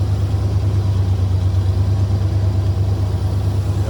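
A car engine fitted with a Holley Sniper EFI system idles at about 1,000 RPM, a steady, loud, low rumble with an even hum that holds constant throughout, with no voices.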